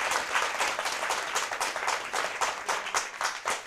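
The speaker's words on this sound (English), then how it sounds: "Round of applause for Choiseul Secondary." Applause from a school math championship audience cheering Choiseul Secondary, a dense, steady patter of many hands clapping close by and fairly loud for nearly four seconds, with no talk over it.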